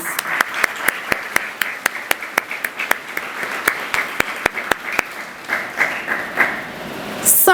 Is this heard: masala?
no